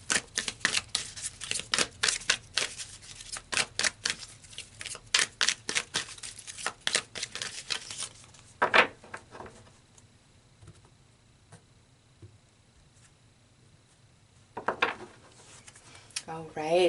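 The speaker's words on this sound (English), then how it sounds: "So let's pull some more cards." A deck of tarot cards riffles and snaps in quick bursts during the first half, then the cards are drawn and laid down with sparse soft taps and a fainter flurry near the end, close and fairly quiet.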